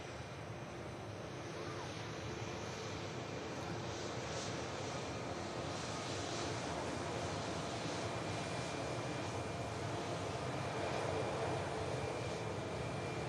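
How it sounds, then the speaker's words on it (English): An Airbus A350 bound for Hong Kong takes off from runway 23 left at Manchester Airport. Its jet engines make a steady, broad roar heard from a distance, and no one speaks over it. "That's going to be next to take off over on runway 23 left."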